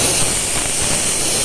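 Steam hissing steadily from a small 3.5-litre boiler at a textile machinery trade show, a loud continuous broadband hiss with no pauses.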